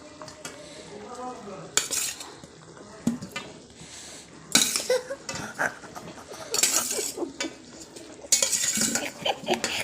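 New potatoes tipped into a pot of boiling chicken curry, giving several loud clattering splashes and knocks against the pot at irregular intervals over a steady bubbling, clinking kitchen background.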